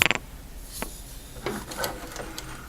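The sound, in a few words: sewing machine sewing a tote bag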